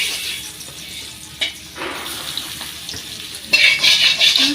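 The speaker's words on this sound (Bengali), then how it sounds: "আমার বড়া ভাজা শেষ, নামাই নিতেছি।" Fritters sizzle in a pan of oil in a village home kitchen, with steady frying hiss, occasional stirring clinks and a louder burst of sizzle near the end; no talking.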